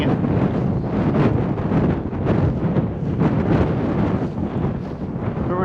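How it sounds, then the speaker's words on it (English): Steady, loud wind buffeting a microphone outdoors, a continuous roaring rumble with gusty swells and no clear other sounds. "Remember I said about wind?"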